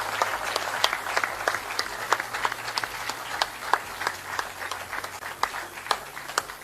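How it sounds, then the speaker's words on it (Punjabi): Audience at a Punjab innovation mission accelerator launch event applauding, a dense patter of many hands clapping continuously with sharp individual claps standing out. "I request everybody to please put your hands together."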